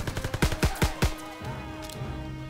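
Gunfire in the World War II shooter game Call of Duty WWII, a rapid burst of about nine sharp, loud shots followed by a fading rumble and a faint tonal hum.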